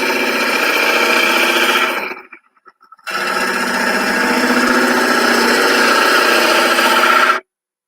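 Wood lathe hollowing with a ball gouge, a loud, steady mechanical whirr and cutting rasp that breaks off briefly, then resumes at full strength before stopping abruptly.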